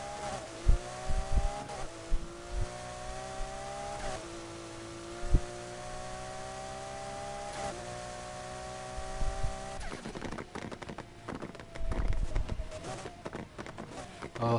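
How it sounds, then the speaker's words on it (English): Lamborghini Murcielago engine in the racing game Need for Speed Heat, revving in long rising pulls through several gear shifts, then turning into a rougher, choppier roar toward the end, continuous and loud. "that is a satisfying noise that's coming from the Murcielago"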